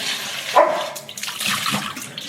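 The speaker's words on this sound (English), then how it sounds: "she'll just bark at the water, and she'll bark until you hear it" A dog gives a short sharp bark at its water bowl over running, splashing water, followed by more watery noise.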